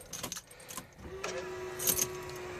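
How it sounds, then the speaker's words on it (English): Keys jangle in the ignition of a Peugeot HDI diesel car as it is switched on, followed by a steady electrical hum and a soft chime-like tone from the dashboard, heard close inside the car. "just turn the ignition on"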